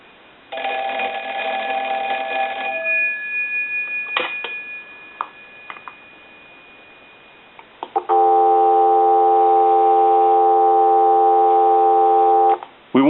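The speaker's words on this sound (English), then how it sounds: "we'll give you some dial tone" After a brief ring from a Kellogg Red Bar rotary dial wall telephone and some clicks and ticks, a steady dial tone starts and holds for several seconds, loud and clear.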